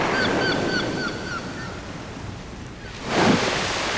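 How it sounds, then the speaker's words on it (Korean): Ocean waves wash onto a sandy European beach with a steady broadband rush and a louder surge near the end, while faint bird-like honking calls sound early on. "푸른 파도와 모래가 있는 이곳은 유럽입니다."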